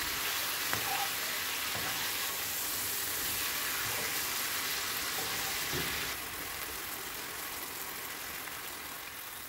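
Soft continuous sizzling of meat frying in a pot for maqluba, steady and fairly quiet, with a few faint clinks and stirring noises.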